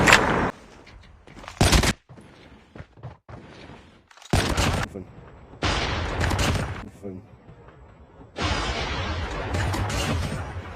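Sniper rifle shots in a first-person shooter video game: several sharp, heavy cracks with booming tails, separated by pauses, spoken commentary and a quieter mechanical rattle.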